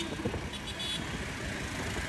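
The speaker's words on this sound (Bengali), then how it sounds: "আমার সামনে অটোরিক্সা, সিএনজি, বাইক, গাড়ি সবগুলোই একজন আরেকজনকে ক্রস করার ট্রাই করছে" Road traffic in Cox's Bazar, with auto-rickshaws, CNG three-wheelers, motorbikes and cars jostling to pass, makes a steady engine rumble with a faint horn toot.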